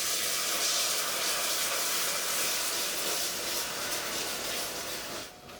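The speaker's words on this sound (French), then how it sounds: "on va pouvoir incorporer le beurre dans le caramel" Salted butter hits hot caramel in a pan and sets off a loud, continuous hissing sizzle. The sizzle stays steady and close, then drops away abruptly just before the end.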